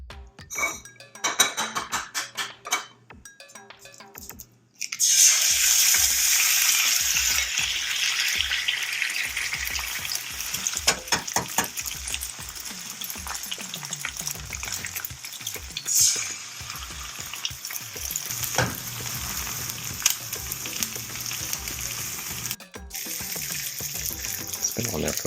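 An egg frying in browning butter in a carbon steel pan, a steady loud sizzle that flares up after a quiet start and runs on, with occasional clinks of utensils against the pan.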